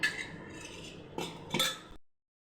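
A metal spoon scraping and clinking against a bowl while mixing idli batter with curd, a few close scrapes and taps, then silence.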